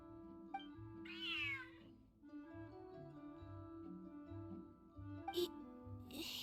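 A cat meows in the video game Genshin Impact, one clear rising meow near the start and a short cry near the end, over steady game music.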